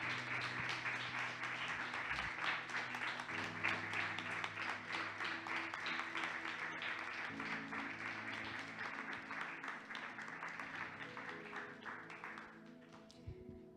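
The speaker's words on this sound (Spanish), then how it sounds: "Pues dar un aplauso a Dios por su palabra." A church congregation gives applause during a Sunday service, a soft, steady patter of many hands beneath sustained keyboard tones, fading slightly toward the end.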